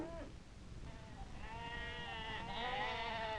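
A sheep bleats several times, wavering cries rising in loudness toward the end, with quiet rural background and no talking.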